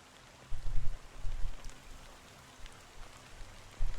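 Fine drizzle of black rain falling in a video game, a steady soft hiss of drops on surfaces with low rumbling swells, no voices.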